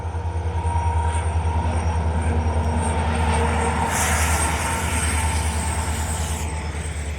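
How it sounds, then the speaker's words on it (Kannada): Train rolling past at close range, a steady loud rumble with rhythmic wheel clatter and a brighter roar swelling midway, continuous with no talk. "ಇವಾಗ ನೋಡಿ ಟ್ರೈನ್ ಬರ್ತಾಯಿದೆ."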